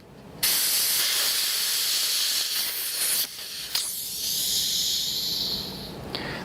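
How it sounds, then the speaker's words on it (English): A Ralston NPT female quick-test adapter connection self-vents its pressure with a loud, close, sustained hiss that breaks off briefly and then resumes as a fainter, thinner hiss, with no talking. "the Ralston Quick-test connection will safely self-vent instead of blowing off"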